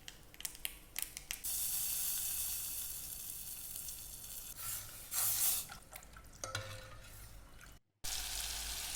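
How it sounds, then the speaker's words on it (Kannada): Butter simmers in a pan as it turns into ghee, giving a steady, quiet sizzle with occasional louder crackling bursts and faint stirring, without any talk. "ಇಲ್ಲಿ ತುಪ್ಪ ಕಾಯ್ತಾ ಇದೆ, ಬೆಣ್ಣೆ ಕಾಯ್ತಾ ಇದೆ."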